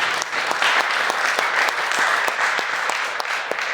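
An audience at a Christian rock concert in an Assembly of God church claps steadily, a dense continuous wash of applause with a few sharper individual claps standing out, no voices over it.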